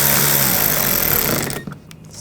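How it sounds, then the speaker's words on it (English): Power tool driving screws into the engine splash shield trim of a 2014-2020 Nissan Rogue, a loud buzzing whir lasting about a second and a half before cutting off, followed by quiet handling noise. "Push it in and put these screws in."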